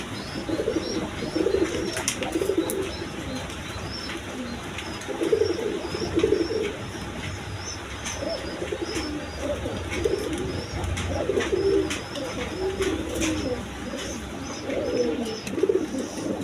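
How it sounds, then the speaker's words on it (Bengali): A pair of high-flying Giribaz pigeons coo in repeated low rolling phrases, close and clear, recurring every few seconds over a steady background hum, with no talking. "এখানে এক পেয়ার হাই ফিলিং গিরিবাজ কবুতর আছে"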